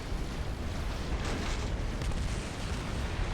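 Artillery barrages in a large-scale real-time strategy game battle, heard as a dense, continuous roar of overlapping booms and explosions, loud and steady throughout with no talk.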